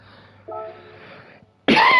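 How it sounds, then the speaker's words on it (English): A single sharp, loud cough bursts out near the microphone at the end of a short stretch of quiet background hum during a racing league commentary. "Sorry, that cough came through."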